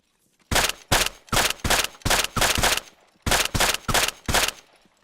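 Gunfire from bolt-action sniper rifles, LMGs and AKs in the video game Arma 3: a loud close run of about ten evenly spaced heavy shots, a short pause, then four more, each with a brief ringing tail.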